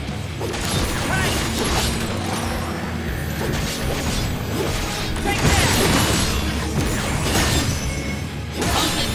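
The Digital Mind Wave slot machine spins in Crisis Core: Final Fantasy VII Reunion, giving a steady run of mechanical whirring and ratcheting clicks broken by crashing, whooshing bursts, loud and continuous throughout.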